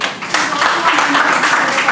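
Audience applause at a fireside chat on second career opportunities, a brief burst of clapping that rises after a short lull and holds steady, with speech present alongside.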